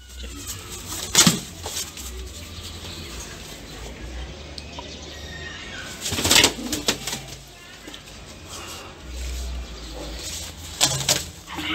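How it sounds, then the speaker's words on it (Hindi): Soft coos and brief wing flaps from a pigeon tangled in kite string in a quiet outdoor setting, with a few louder rustling bursts and faint voices in the background. "धागा में फंस गई है कबूतर, इसको मैं निकालने की पूरी कोशिश करूँगा"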